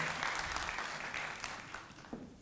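Applause for award winners at a ceremony, a steady wash of many hands clapping that holds at moderate volume and slowly fades toward the end.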